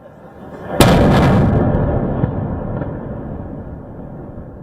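A single loud explosion from an airstrike on Beirut at night booms suddenly, followed by a long rumbling decay that fades slowly into a low background roar.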